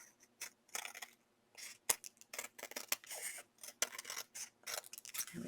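Scissors snip paper for a patchwork St Patrick's Day card in quick, irregular bursts of crisp cuts, close and fairly quiet, with short gaps between strokes.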